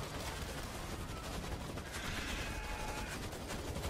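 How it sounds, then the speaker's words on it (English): Steady turret gunfire in the World War Z army stronghold, a dense continuous rattle of rapid shots held at a fairly distant, low level with no pause. "Oh crap, there's a turret right there."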